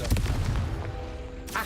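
A Confringo blasting spell from Hogwarts Legacy, a single booming explosion at the start that decays into a low rumble, with another sharp burst just at the end.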